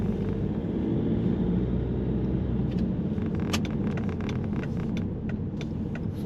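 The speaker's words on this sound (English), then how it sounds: "So from first impressions, the PSA diesel is very rattly" A Volvo S40 Mk2 with a PSA diesel engine runs steadily, a loud, continuous low rumble with a rattly, gritty edge and a few faint clicks, heard from inside the car with no one talking.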